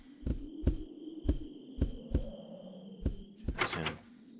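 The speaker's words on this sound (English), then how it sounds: "That door's locked." A locked door rattles in Resident Evil Zero: a series of sharp, evenly spaced knocks and thunks, six or so in quick succession, followed by a brief noisy scrape at the end, all close and clear with no talking.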